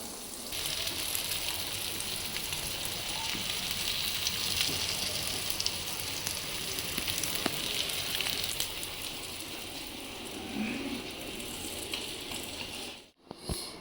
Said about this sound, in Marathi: आता त्याला सगळ्या मच्छी मी चांगल्या पैकी चांगल्या मस्तपैकी तळून घेते